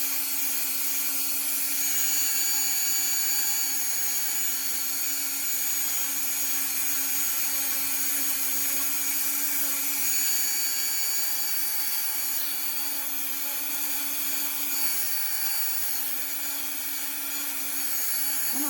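A Dremel rotary tool grinds a polymer clay pendant with a steady, close whirring drone and a faint hiss of material being worn away, continuing almost unchanged for the whole stretch.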